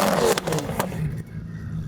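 A Lamborghini V10 revs hard and close, a loud dense engine roar that surges for most of a second, then drops back to a lower rumble and idle.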